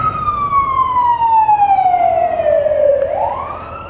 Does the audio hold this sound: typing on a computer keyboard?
no